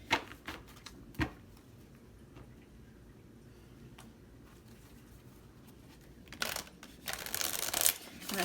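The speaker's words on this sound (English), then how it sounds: "I'm going to shuffle one more time." A deck of tarot cards is shuffled by hand, with soft scattered ticks and faint riffling at first, then a brisker, louder flurry of card shuffling near the end.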